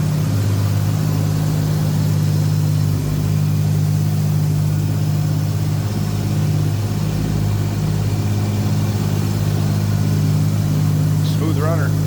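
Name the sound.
1961 Plymouth Fury engine running smoothly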